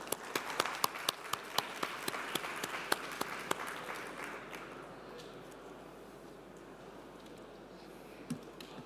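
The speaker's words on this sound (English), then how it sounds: "I'd really like to give one round of applause again for the panelists" An audience at a police summit applauds with crisp, distinct claps that soon thin out and fade into a soft room murmur.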